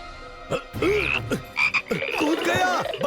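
Cartoon frog croaking in a children's animated show, a string of bright, wobbling croaks in quick bursts, loud and close with no talking over them.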